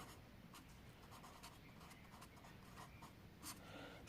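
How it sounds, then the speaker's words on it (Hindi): Chalk or marker scratches across a board in short, quiet strokes, a soft, intermittent scraping that comes and goes with brief pauses. "तो पद लिखेंगे हम"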